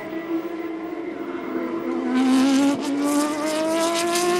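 Formula Renault 3.5 race cars climb the hill at Donington Park during a race, engines whining at high revs, growing louder as another car passes close by with a rising, shifting pitch.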